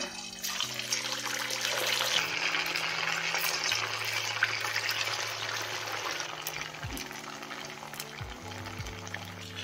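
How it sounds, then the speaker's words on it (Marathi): Sabudana vadas frying in hot oil in a kadhai, producing a steady bubbling sizzle at moderate level, with a faint low hum running underneath and no speech. "त्यामध्ये आपण आता वडे सोडून घेऊया"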